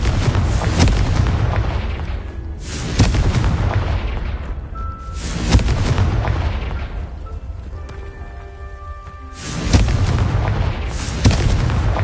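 Four Confringo blasting-spell explosions in the video game Hogwarts Legacy, each a heavy booming burst that decays slowly, spaced roughly three seconds apart, with faint tonal chimes between blasts.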